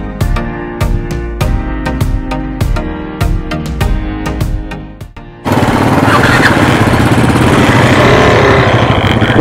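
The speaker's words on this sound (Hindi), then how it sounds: "दोस्तों इस वक्त बाइक की एंट्री भी शुरू हो चुकी है, तो हम सीधे यहाँ से इस ब्रिज से होते हुए जा रहे हैं रोरो के अंदर" A motorcycle engine thumps in rapid, uneven pulses up close while bikes ride onto a RoRo ferry at Bhaucha Dhakka, then gives way to a loud, steady engine and wind roar.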